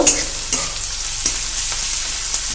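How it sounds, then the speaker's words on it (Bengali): Onions sizzle and fry steadily in a pan, a dense continuous crackle with occasional stirring scrapes, close and fairly loud with no voices. "কিছুটা ভাজা ভাজা মতো ট্রান্সপারেন্ট হবে সেই পর্যায় পর্যন্ত আমরা পেঁয়াজটা ভেজে নেব"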